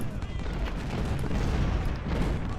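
Cannon fire rumbles across a Civil War battlefield in Ultimate General: Civil War, a dense continuous roar of distant artillery booms and crackling shots blending into a steady low battle din.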